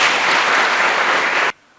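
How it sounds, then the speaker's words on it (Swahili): An audience applauds the district commissioner with a dense, loud wash of clapping that holds steady and then cuts off abruptly. "Makofi kwa mkuu wa wilaya."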